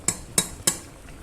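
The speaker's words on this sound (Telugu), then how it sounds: "దీన్ని మళ్ళీ కలుపుకుందాం ఒకసారి." Chicken curry being stirred in a pot, three sharp, evenly spaced metallic clinks of a spoon against the pot, close and alone.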